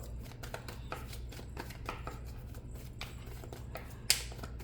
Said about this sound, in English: And I just started shuffling the deck.